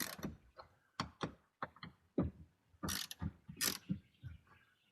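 A hand ratchet loosens fasteners on the air dam of a Chevrolet Colorado, in short bursts of sharp clicking and metallic rattles separated by brief pauses, close and fairly distinct, with no talking.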